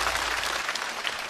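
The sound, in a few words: audience applause at stand-up show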